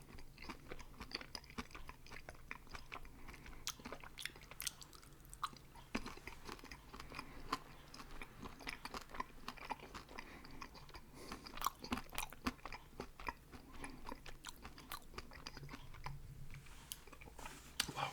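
Chewing and crunching on a Toblerone chocolate bar, close and steady, with soft wet mastication and sharp crunchy bites recurring throughout and no talk.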